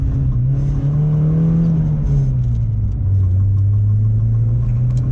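A Porsche 944 revs hard and accelerates, its engine rumbling loud and close in a steady drone that rises, dips briefly and then holds strong to the end, with no voices.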